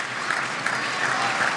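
The Chinese team bench claps for table tennis player Marlon at the 2012 World Team Championships in Dortmund, a steady dense patter of applause from a crowded hall, fairly even in level throughout.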